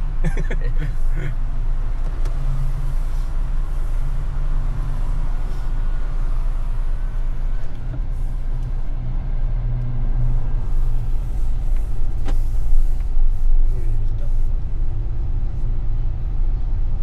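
Steady low rumble of a Proton X50 flagship facelift four-cylinder engine, heard from inside the car during a 2025 test drive, droning evenly throughout with road noise and faint background sounds.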